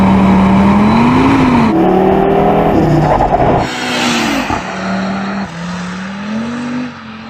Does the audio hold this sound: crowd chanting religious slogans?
no